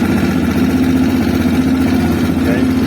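A CSC RX3 motorcycle engine idles at close range with a steady, even thrum and faint rattly vibration, holding constant throughout with no revving.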